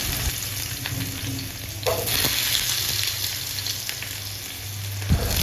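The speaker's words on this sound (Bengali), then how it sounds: "এরপর আমি ফ্রাইং প্যানে একে একে সমস্ত কেটে রাখা আলুর টুকরোগুলোকে দিয়ে দেব এবং আলুর টুকরোগুলোকে খুব ভালোভাবে ভেজে নেব" Cut potato pieces fry in a frying pan with a steady crackling sizzle, close and fairly loud, broken by a few clinks and stirring scrapes and a sharp knock near the end.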